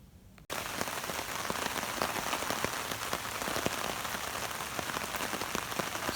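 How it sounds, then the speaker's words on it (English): Rain falls outdoors in Florida during a quick passing shower, starting abruptly and then holding as a steady, dense patter with scattered louder drops striking a surface nearby. "Started raining on me before I could get my coffee going."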